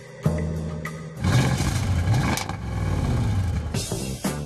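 An Audi RS6 estate with a 560-horsepower V8 biturbo roars close by, rising and falling through several loud revs separated by short dips, with no voices.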